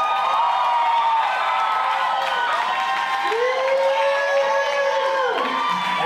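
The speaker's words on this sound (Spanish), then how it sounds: "Así que un aplauso, por favor, para Josué, sí." A comedy show audience applauding and cheering, a steady crowd roar with whoops and shouts running throughout, with some voices and calls layered over it.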